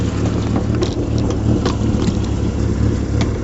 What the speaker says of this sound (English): Not sure if you could hear me, but it's running very rough.